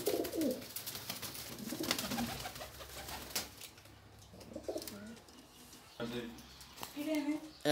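Soft pigeon coos murmur in the background while people talk over them throughout.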